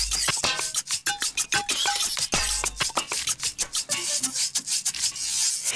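Egg whites beaten to stiff peaks are folded quickly into batter in a bowl, a steady run of brisk scraping and rubbing strokes with light clinks against the bowl, close and fairly loud, with no talking.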